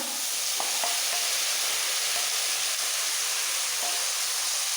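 A spice paste of cashew, raisin, tomato and ginger sizzles steadily in a hot pan, a dense continuous hiss with a few faint clinks of a spoon, close and even throughout.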